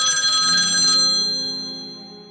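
A telephone rings once while a call goes out to another number: a bright electronic trill that holds steady, then fades away. No one speaks.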